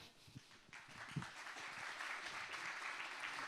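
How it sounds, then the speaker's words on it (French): Audience applause at a talk on pulmonary hypertension, very quiet and distant, starting with a few scattered claps and building into a soft continuous patter. "Vous pouvez les applaudir"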